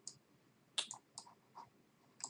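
Computer mouse clicks on a Windows Server 2012 machine, a few sharp, close, quiet clicks spaced irregularly, some in quick pairs, with no talking.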